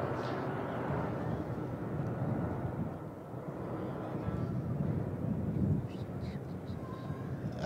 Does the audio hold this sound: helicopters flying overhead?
yes